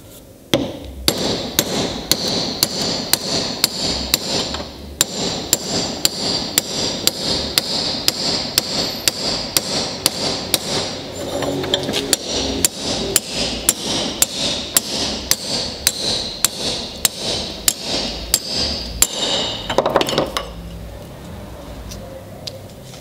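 Cherry wood dowel hammered through a 12 mm steel plate to form a splined dowel: rapid, steady hammer blows repeat loud and close for about twenty seconds, with a brief pause near five seconds, then stop.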